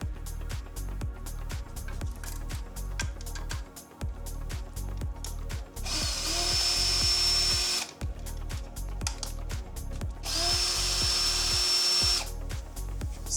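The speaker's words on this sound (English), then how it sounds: "I need to take out a bunch of 10mm bolts" A power tool, likely an impact driver or ratchet, zips out 10mm bolts on a VW Golf Mk2 engine, with rapid rhythmic clicking bursts and two longer whirring runs that rise in pitch, close and loud.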